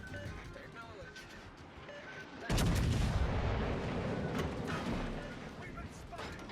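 Warship guns in World of Warships: Legends fire in a sudden heavy blast that rolls into a sustained rumbling boom, following quieter game effects and radio voice chatter.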